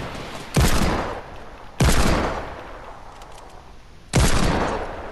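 Gunfire in the battle royale game Fortnite, fought across a dusty field: three loud, sharp shots or short bursts spaced about a second or two apart, each with a long decaying echo, no talking over them.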